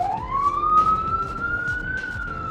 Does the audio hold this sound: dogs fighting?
no